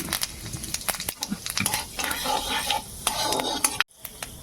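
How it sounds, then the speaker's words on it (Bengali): Whole cumin seeds crackle and sizzle in a little hot oil for tempering a vegetarian cauliflower roast, with scattered sharp pops and clinks of a utensil against the pan, steady and close, cutting out briefly near the end. "একটু জিরে, গোটা জিরে ফোড়ন দিচ্ছি।"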